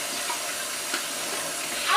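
Water boiling in a pot on a stove fire while Jamaican food is cooked, a steady broadband hiss and bubbling roar that stays even throughout, close and continuous with a few small pops.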